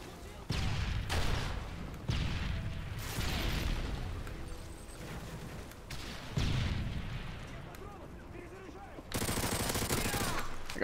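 Rapid gunfire bursts and booms from a Desert Eagle pistol in Call of Duty: Modern Warfare 3, loud repeated shots in short clusters with game effects between them.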